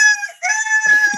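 A person imitates a rooster's cock-a-doodle-doo, giving a loud, close crowing call of about a second with strong sustained harmonics and a short break partway through.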